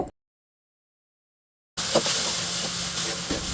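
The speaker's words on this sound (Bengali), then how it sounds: "এটাকে দিয়ে ভালো করে নেড়ে চেড়ে কষিয়ে নিব।" Turmeric, chili powder and salt being fried and stirred in a pan for a beef-skin curry: after a stretch of silence a loud, continuous hissing sizzle starts, with faint stirring knocks underneath.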